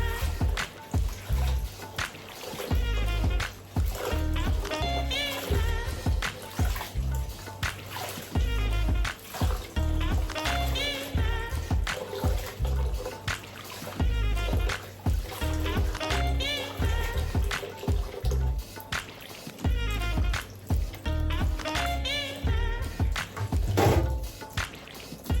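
Water runs and splashes into a bowl used for washing vegetables while cooking Egusi soup, a steady churning pour with intermittent sloshing and gurgling bursts throughout.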